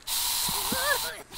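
Spray paint hisses steadily against a building wall in the game Gas Station Simulator, a continuous broadband spray lasting over a second and cutting off near the end, with a voice briefly speaking over it.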